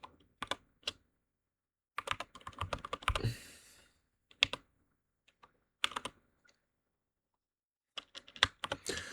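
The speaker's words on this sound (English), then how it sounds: "I will say one thing about my typing. This keyboard is on the most sensitive for games and stuff" Fingers type on a very sensitive computer keyboard, close and crisp, in short rapid bursts of keystrokes separated by quiet pauses.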